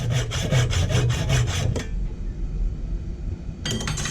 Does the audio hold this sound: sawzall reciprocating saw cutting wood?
yes